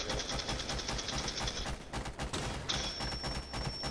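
Automatic gunfire from the shooter game Rainbow Six Siege in a T-Hunt match, dense rapid bursts with a short pause partway through, loud and continuous with a thin high whine near the end.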